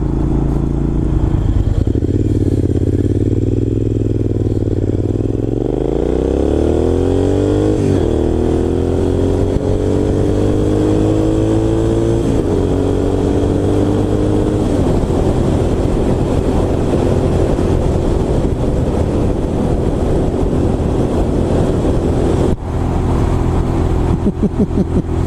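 A Triumph Scrambler 900 motorcycle riding on a road, its engine revving up through rising gears with steady loud drone and wind noise, close and continuous throughout.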